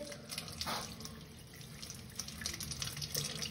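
Water runs through newly fitted surface-mounted bar shower pipework, a quiet steady hiss and trickle with a few faint drips, heard alone for the whole stretch.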